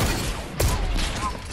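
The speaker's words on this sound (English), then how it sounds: "walked into my shot. How'd that miss, Michael?" Gunfire in the video game Fortnite comes as a brief, sharp burst of shots over dense game noise, close and loud.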